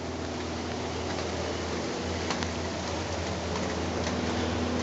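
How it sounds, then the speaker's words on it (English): Steady rain hisses down outdoors beside a chicken coop under construction, a dense, even wash of drops on surfaces with no breaks, fairly close and continuous. "you can hear it starting to rain again."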